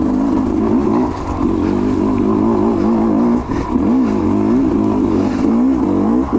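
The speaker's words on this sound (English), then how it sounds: "I just love how this thing will lug in second gear." A Sherco 250 SE Factory enduro motorcycle lugs in second gear while climbing a shaded mountain trail, its engine a loud, steady, close low rumble with slight wavering throughout.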